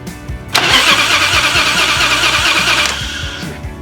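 A Harley motorcycle engine with no compression cranks on its starter, a loud close whirring drone with fast, even, weak chugging pulses and no firing, running for a few seconds before cutting off.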